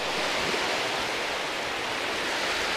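Small sea waves wash in a steady, broad rushing hiss as the tide goes out, with no break and no voices.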